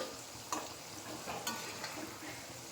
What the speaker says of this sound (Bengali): আবার তেল দিয়ে ভাজতে হবে।